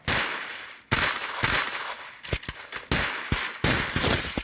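Loud Free Fire video game gunfire in repeated bursts, some long sustained sprays and some short sharp cracks in quick succession.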